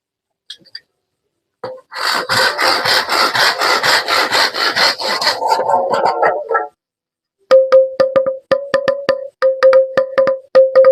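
Close, rhythmic sawing through bamboo, quick repeated strokes for several seconds, followed by a series of sharp tapping knocks on the hollow stalk.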